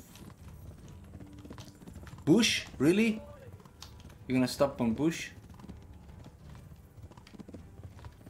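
Horse hooves clip-clop at a steady gait in the video game Kingdom Come Deliverance, a soft continuous rhythm running beneath two short bursts of someone talking.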